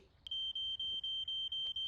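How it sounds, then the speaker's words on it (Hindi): A cartoon smoke alarm in the Fireman Sam series sounds a steady, high-pitched electronic beeping, repeating in short pulses about four times per second, loud and alone with no talk. "ये किसका स्मोक अलार्म बज रहा है?"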